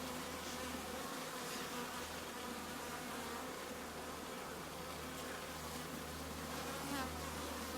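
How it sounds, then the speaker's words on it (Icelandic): Honeybee drones flying up around a hive in a steady, loud, dense buzzing swarm drone that fills the whole stretch with no talk. "Þessar flugur sem fljúga upp svona miklum hávaða, þetta eru druntar."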